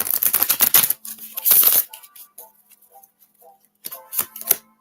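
Oracle cards shuffled by hand in a few quick bursts of crisp, ticking snaps separated by quieter gaps, close and clear.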